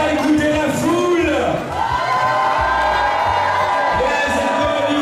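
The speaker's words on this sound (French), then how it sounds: "Monsieur l'inspecteur, écoutez la foule." A large crowd of protesters at a school-defense rally cheers and shouts loudly, with whoops and bellowing voices layered into a dense, continuous roar, some voices rising above the mass, heard close.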